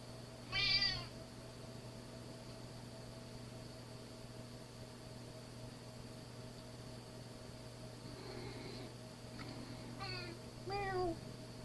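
A house cat meows in two bursts, one short call near the start and a couple more toward the end, fairly close against a steady hum of household fan or appliance noise.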